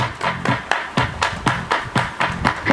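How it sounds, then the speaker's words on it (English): Group clapping in time during a line dance in a gym, about a dozen evenly spaced loud unison claps, roughly four per second-and-a-half, with a steady rhythmic beat and music underneath. "Everybody clap your hands."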